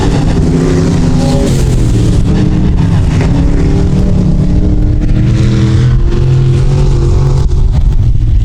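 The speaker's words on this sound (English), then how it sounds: "As the USRA B Modifieds line them up here tonight at the Rapid Speedway." USRA B Modified race cars at Rapid Speedway rumble loudly together as the field lines up, a dense, continuous engine drone with rising and falling revs close by and no talk.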